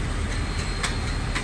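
A train moves through Bahawalpur railway station in Pakistan with a steady, loud rumble and rattle from the wheels. Sharp clicks sound at intervals as the carriages pass over the rail joints.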